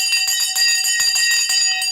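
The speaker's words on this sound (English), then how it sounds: "The bell has gone." The stock market closing bell rings as a continuous loud electric bell, its rapid metallic strikes pulsing evenly for two seconds, close and alone with no talk.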